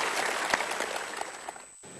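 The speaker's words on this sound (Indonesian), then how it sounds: "Kita berikan tepuk tangan dulu untuk 3 orang ini." Quiet applause from a studio audience on a television talk show, a soft, steady patter of clapping heard at a distance with one sharper clap near the start.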